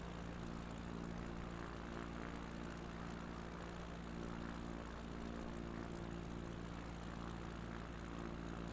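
A propeller plane's engine drones steadily in a flight simulator on a bush trip over the Apennines from Bologna to Florence, loud and continuous with no pauses.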